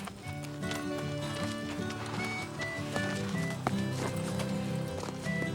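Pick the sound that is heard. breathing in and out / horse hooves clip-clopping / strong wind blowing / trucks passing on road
horse hooves clip-clopping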